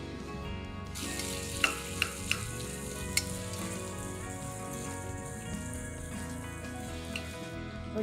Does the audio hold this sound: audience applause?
no